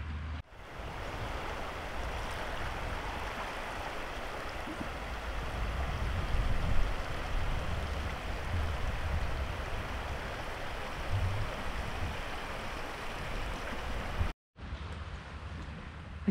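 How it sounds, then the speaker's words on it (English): Waves roll in continuously on the shore at Seal Point in Argyll, Scotland, a steady broadband wash of surf on a murky day, loud and close with no talk. "I could sit here all day though and listen to the sound of the waves coming in."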